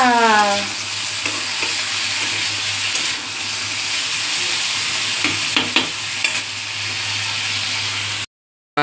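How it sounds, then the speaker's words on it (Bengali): Potato slices frying for aloo bhaja in a home kitchen, a steady close sizzle and hiss with occasional stirring clatter, ending in a brief cutoff. "আলু ভাজা বসে দিচ্ছি আলু ভাজা"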